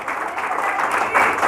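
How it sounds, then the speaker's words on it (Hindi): Applause in a standing ovation at a women's rights gathering organized by a Lucknow traders' association women's wing: sustained, dense clapping from the crowd that swells louder toward the end. "जोरदार तालियां।"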